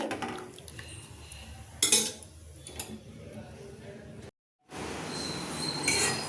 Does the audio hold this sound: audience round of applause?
no